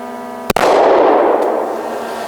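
A single sharp, loud gunshot from an M&P Shield 9mm pistol cracks out near the mic, followed by a broad decaying echo that trails off over about two seconds.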